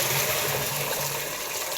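Water gushes steadily into a container for the whole stretch, a continuous close rushing hiss with no voices.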